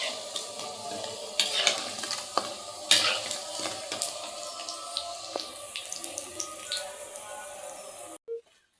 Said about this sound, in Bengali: এই জন্য পেঁয়াজ ভাজছি।